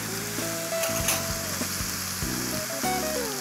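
Ginger and garlic sizzle steadily in a hot pan for chicken korma, a constant close frying hiss with light stirring and faint musical tones underneath.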